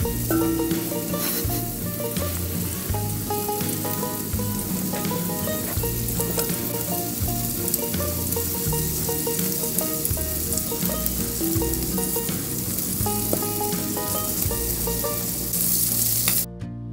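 Pasta sauce for tagliatelle carbonara sizzles steadily in a frying pan while being stirred, a loud continuous crackle with scraping stirs throughout and no talking.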